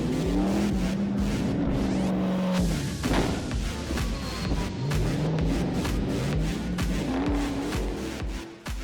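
A car speeds away from police through an abandoned parking lot during a chase, its engine roaring and shifting pitch continuously with thumps and road noise, loud and close throughout.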